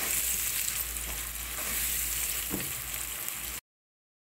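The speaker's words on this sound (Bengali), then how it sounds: "এখন এখানে দিয়ে দিব লবণ দিয়ে পেঁয়াজটা আমি বাদামি করে ভেজে নেব।" Onions frying in oil with salt in a frying pan, a steady loud close sizzle that carries on without a break and then cuts off abruptly near the end.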